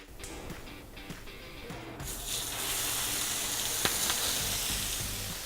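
Steak sizzles and spits in olive oil in a hot skillet, a soft hiss that jumps to a fuller, louder frying crackle partway through and keeps going steadily, with occasional sharp pops and no voices.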